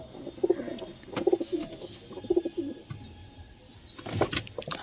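Giribaz pigeons at a loft with eggs and chicks, giving soft repeated cooing phrases in short bursts over a steady low background hum, with a few sharp clicks and a brief rustle near the end.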